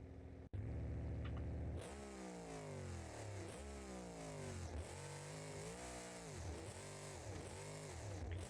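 In BeamNG.Drive, a tuned truck with a loud exhaust revs hard after a brief click, its engine climbing and dropping in repeated rough, blaring pulls, close and alone.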